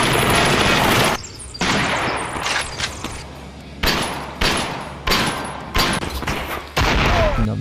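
Gunfire in the VR shooter AIM XR on Oculus Quest 2 rings out as loud, sharp bursts of rapid shots separated by short gaps, several distinct volleys with crisp, cracking reports.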